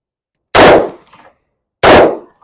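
Two loud, close pistol shots from a Beretta M9, each a sharp crack with a brief decaying echo, spaced about a second apart with silence between.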